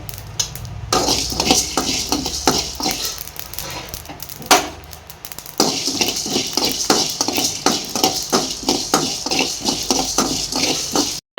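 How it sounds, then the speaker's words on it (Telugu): Spices and cumin frying in a pan for gongura chicken pickle, with a utensil scraping and clinking in quick repeated strokes over a soft sizzle, close and moderately loud. "ఇవి చక్కగా ఫ్రై అయ్యి మంచి స్మెల్ వచ్చేంత వరకు ఫ్రై చేసుకోవాలి"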